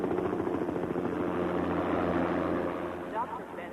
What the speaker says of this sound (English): Medevac's here with Steve.